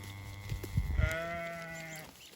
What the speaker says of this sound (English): Sheep eating thistle.